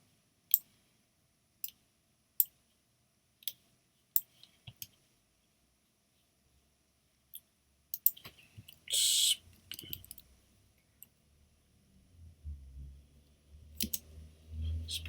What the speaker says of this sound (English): Actually, let me type that in now.